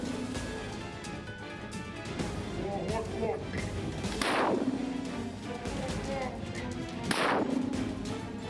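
Two heavy, sharp 60 mm mortar blasts ring out a few seconds apart, each with a rolling tail, over a busy background that includes voices.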